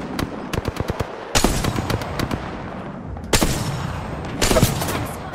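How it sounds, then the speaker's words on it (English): Bursts of automatic gunfire in Apex Legends: rapid cracking volleys, some near and loud, others sharper and more distant, with a brief lull between heavy barrages. "Shots fired."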